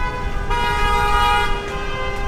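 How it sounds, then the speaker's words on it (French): A car horn blares in a sustained, loud toot on a city street in Milan, holding steady for a couple of seconds over traffic rumble. "ils aiment ça le klaxon"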